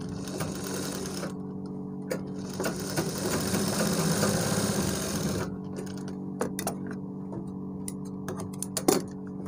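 A sewing machine stitching the lining of a trouser back pocket, running in a fast rattling burst for a few seconds, then a pause filled with scattered ticks and clicks from the mechanism, close and clear with no talking.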